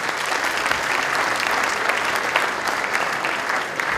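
Audience applause at a company New Year's greetings event for the SODEAL, dense, loud clapping from a sizeable crowd, sustained and even throughout with no speech over it.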